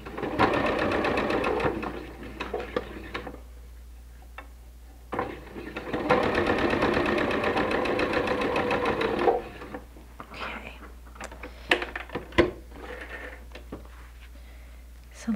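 Sewing machine stitching through bulky quilt pinwheel seams, running in rapid bursts of a few seconds separated by pauses, followed by light clicks and handling taps.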